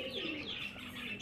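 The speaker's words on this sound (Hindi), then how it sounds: "तो हमारे मास्टर केज में दोस्तों दो नए कबूतर आ गए" Pigeons cooing softly in a cage, low repeated coos blending with faint chirps, close by and steady for a moment with no talking.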